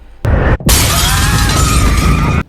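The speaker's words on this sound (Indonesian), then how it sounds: "Wanita itu kemudian menerobos melalui pintu kaca dan menyerang Claire." A glass door shatters loudly as a woman bursts through it in a Resident Evil film scene, a sudden crash followed by a sustained bright spray of breaking and falling glass that cuts off abruptly.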